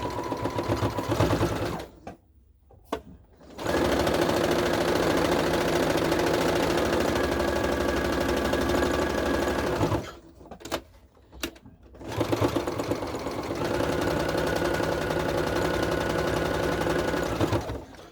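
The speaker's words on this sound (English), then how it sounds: "you're going to want to sew around the outside of this mask. You're going to top stitch it down" A sewing machine top-stitches around the edge of a fabric face mask, running in long steady bursts with two short pauses, close and loud with no talking.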